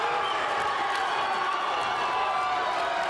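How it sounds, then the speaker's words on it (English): A high-school varsity basketball crowd roars and cheers in a gym after a last-second shot, a dense, sustained wall of voices and noise with no break. "Wow, that brings the crowd off their feet."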